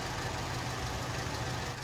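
A tractor engine idles in Farming Simulator 19, a steady low rumble with a constant hum and no talking.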